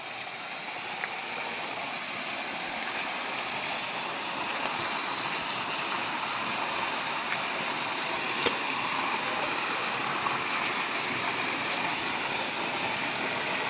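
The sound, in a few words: waterfall in Mizoram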